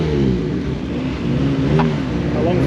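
Race cars pulling away at the start of a club enduro at Silverstone International, a steady layered engine drone with rising and falling revs from several cars, continuous and moderately loud throughout.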